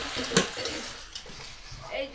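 A spoon scrapes and clinks against a pot as khichuri of fried dal is stirred on the stove, a few soft, close, intermittent scraping sounds with faint sizzling underneath.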